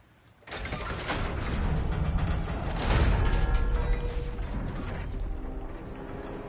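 A crank mechanism in God of War Ragnarok turns with a heavy grinding, ratcheting clatter of gears and creaks, swelling in the middle and continuing steadily for several seconds, with no voices.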